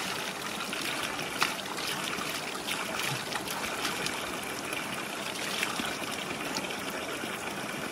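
Steady rushing and trickling of a village spring's flowing water in Pakistan fills the whole stretch, constant and close, with no voices.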